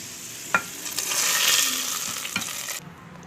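Cashews and raisins fried in ghee are stirred into sweet pongal, giving a close, steady sizzle with a few sharp spoon scrapes against the pot before it quickly drops away.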